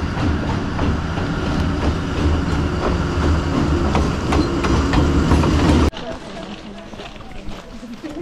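A train rumbles past on the tracks near Machu Picchu, Peru, loud and continuous with rhythmic clatter, then cuts off abruptly to quieter ambience.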